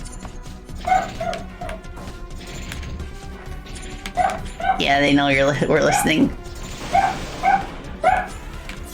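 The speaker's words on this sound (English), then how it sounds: "Usually when Paige barks" A pet dog named Paige barking and yipping indoors, several sharp barks in short clusters with a whimpering, wavering yelp in the middle, mixed with a person talking over game sounds.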